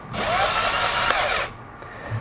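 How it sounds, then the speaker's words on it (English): A power drill spins a grip chucked into it, whining steadily and loudly for over a second before stopping abruptly, followed by faint handling noise. "I'm going to chuck this into the drill once the grip is on here"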